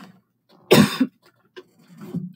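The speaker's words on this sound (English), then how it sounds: "I've been coughing all day." Sick person coughing indoors: one sharp, loud cough burst followed by a smaller hack, then a quieter throat-clearing rumble near the end, close to the microphone.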